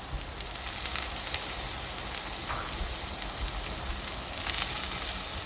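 Potatoes frying in an open pan for aloo fry, giving a steady, dense sizzle and crackle of hot oil that runs loud and unbroken throughout, with no talking.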